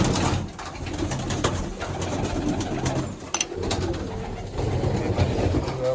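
Many pigeons coo in a loft at feeding time, a dense layered murmur of soft throaty calls close by, with occasional wing flutters and clatter.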